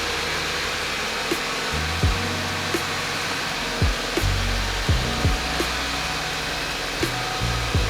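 A 2015 Audi A4 (B8.5) with a ZF 8-speed transmission idles after a cold start, giving a loud, constant, close-up rushing drone with faint low knocks now and then and no speech.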